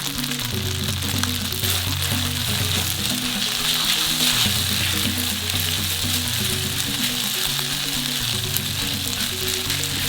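Pad thai noodles stir-fry in hot oil with a steady, close, dense sizzle that runs the whole time over low background music.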